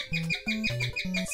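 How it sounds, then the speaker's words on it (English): Several quick chirps ring out in a Nintendo video game, four or five short synthetic tweets in a bouncing rhythm over a steady electronic tone, close and clear with no talking. "Stupid birds is what I'm afraid of."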